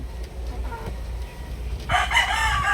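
A 16-month-old Maclean Hatch gamefowl rooster crows once, loud and close, after a stretch of backyard ambience with low rumble.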